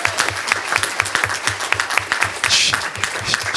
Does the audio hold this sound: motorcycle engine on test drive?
no